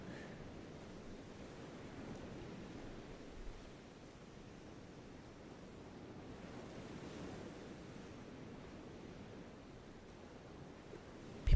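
Ocean waves wash in a continuous, soft surf roar with a slow swelling rhythm, mixed with a steady breathy wind hiss, heard alone at an evening seaside.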